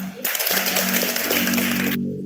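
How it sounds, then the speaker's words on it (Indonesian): A class of students applauds in a short, dense burst of clapping that starts abruptly and cuts off just as suddenly, close and steady throughout. "Ya, beri tepuk tangan."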